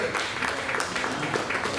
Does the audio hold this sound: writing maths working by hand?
no